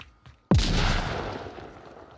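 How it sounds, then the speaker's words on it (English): Grenade explosion in the VR shooter Onward during a competitive tournament match, a single sudden loud boom that cuts in after faint quiet and then decays into a long rumbling tail. "Here comes the nade."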